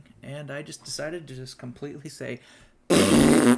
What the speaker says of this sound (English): I apologize for the fart noise